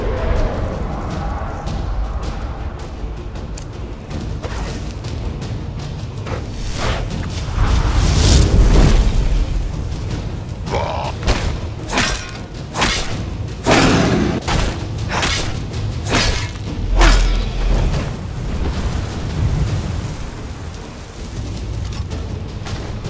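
Strafing dragon attacks in modded Skyrim on Legendary difficulty pound the scene with heavy booms and sharp impact bursts, repeated irregularly over a rumbling, rain-like wash, loud and near, with a voice talking at times.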